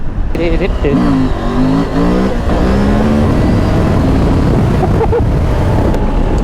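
A new KTM 890 Adventure R motorcycle engine revs and accelerates hard through rising gear pulls, loud and close, with heavy wind rush over the microphone throughout.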